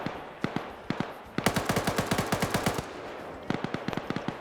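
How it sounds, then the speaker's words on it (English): Bursts of RPK machine gun fire in a PvP shooter game, rapid close shots in several strings with short gaps, loud and dominant with no talk over them. "Iqbal gets another kill with that RPK before trying to run."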